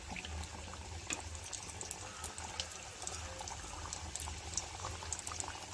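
A batch of snacks deep-frying in oil on a low-to-medium flame, a steady fizzing bubble with crackling pops, quiet and continuous with no talking.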